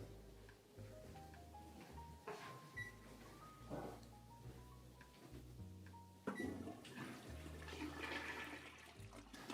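A toilet flushes in a luxury Dubai apartment bathroom, a steady rushing wash of water lasting several seconds, loud and close, with no one talking.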